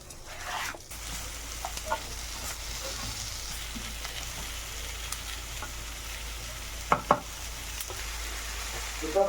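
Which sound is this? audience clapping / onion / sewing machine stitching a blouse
onion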